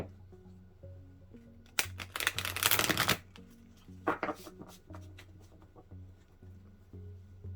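A burst of tarot cards riffling and flipping for about a second, then a shorter second shuffle, with soft handling noises and quiet background hum.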